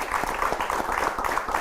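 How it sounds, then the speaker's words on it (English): Applause from an audience at a televised talk event on drug abuse prevention, a steady dense patter of clapping held at even loudness for under two seconds. "I think she deserves a round of applause."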